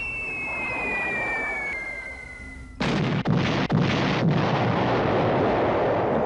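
A descending whistle-like whine gives way to a sudden, loud, sustained roar of bomb explosions from a B-24 Liberator bombing run. Several sharp blasts punctuate the roar.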